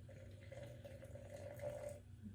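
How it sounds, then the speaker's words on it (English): Water poured into sourdough bread ingredients in a bowl on a kitchen scale, a quiet, continuous trickling stream that stops shortly before the end. "Gonna zero it out and add my water."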